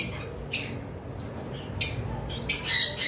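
Lovebirds at a bird farm giving sharp repeated squawks and chirps, three or four loud bursts spaced across a steady background of chatter and hum.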